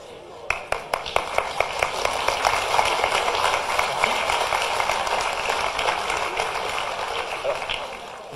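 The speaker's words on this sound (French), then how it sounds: "je voudrais vous demander d'applaudir dans l'ordre" An audience claps at Boris Ravignon's New Year's wishes ceremony. A few separate claps grow into sustained, moderately loud applause that lasts several seconds.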